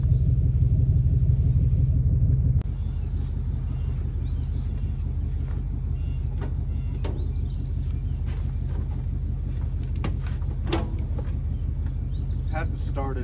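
A Kubota tractor engine, idle since September, cranks and then settles into a steady, low diesel rumble close by, with scattered clicks and knocks over the running engine.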